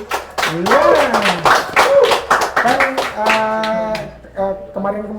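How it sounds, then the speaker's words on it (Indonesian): Audience clapping for a talk show episode: a burst of hand claps rings out close and lively while a voice talks over it, the clapping thinning toward the end as speech takes over. "Tepuk tangan dulu sekali lagi buat Tera Media ID."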